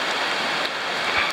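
Rain falls on a mountain trail during a backpacking hike as a dense, steady hiss of drops, close and continuous, with no voices.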